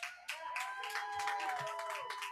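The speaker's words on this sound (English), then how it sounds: "Y'all give Senator Kaine a big round of applause" A crowd applauds Senator Kaine at a July 4th gathering in Colonial Williamsburg, the clapping brisk and continuous over a sustained tonal hum, with no speech.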